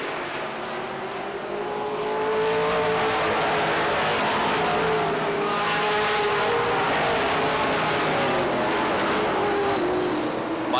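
Stock race cars at Beech Ridge Motor Speedway in 1993 roar around the track, a loud continuous drone of several engines that swells as the pack passes close and holds steady for the whole stretch.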